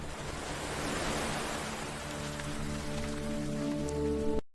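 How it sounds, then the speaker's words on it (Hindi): Heavy rain falls over a farm field in a steady, dense hiss that does not let up. Faint tonal music sits underneath the downpour. "हे भगवान, इतनी तेज बारिश, मेरी सारी मेहनत कहीं बर्बाद ना हो जाए।"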